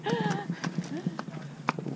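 Hooves clop in a quick irregular patter close by, with people talking over them and a short whinny-like sound early on.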